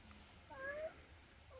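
A house cat lets out a single short, rising meow, faint but clear against a quiet room hum, with a small click just after.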